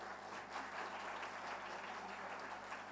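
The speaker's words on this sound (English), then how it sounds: "You should clap." An audience at an education talk claps steadily, a dense, even patter of many hands at a moderate distance, sustained throughout.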